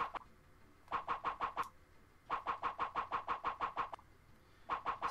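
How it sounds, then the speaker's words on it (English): Bursts of rapid, rhythmic tapping pulses repeat in short runs with pauses between, like a quick rolling clatter, fairly faint and with no talking, from the video game Disney's 102 Dalmatians: Puppies to the Rescue. "Sorry about the rolling noise"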